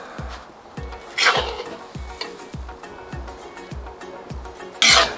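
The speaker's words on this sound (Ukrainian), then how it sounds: "Настав час закласти зажарку в основний казан." Fried vegetables sizzle and hiss in hot fat while being stirred into a pot of bean soup, with regular scraping strokes against the pot and a louder burst of frying near the end.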